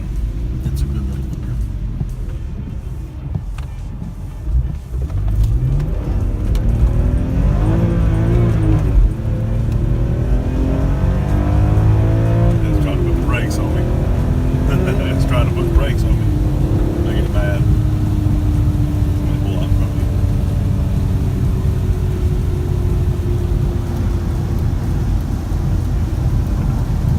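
A 2006 BMW M3 E46 convertible drives on a rainy road, its engine droning loud and steady and climbing in pitch through the gears, with road and wind roar underneath and a person talking over it.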